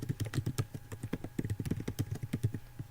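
Steady, rapid typing on a computer keyboard, with close, crisp key clicks in an uneven rhythm filling the whole stretch, alone with no talk.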